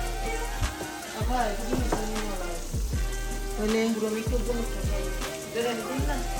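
Bottle gourd frying in a pan gives off a continuous, fairly loud sizzle, with voices and other sounds mixed over it.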